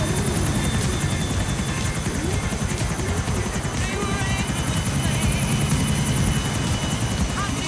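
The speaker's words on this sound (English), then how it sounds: "See the helicopter coming towards you?" A helicopter in Grand Theft Auto IV drones with steady rapid rotor chopping and a whining engine, loud and continuous throughout, with faint talk mixed beneath.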